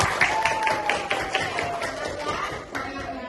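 A class of students claps together in a quick burst of applause, with a voice rising over the clapping in a classroom.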